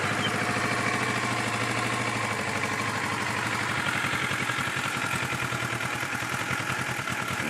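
A warmed-up 2012 Kawasaki Ninja 650 motorcycle idles steadily up close, a smooth, even mid-pitched engine rumble with a light rhythmic clatter and no voices.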